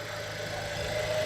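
A 2012 Nissan Juke with the 1.6 turbo AWD engine idling, a steady, even mechanical hum with a faint whine running underneath at an unchanging level.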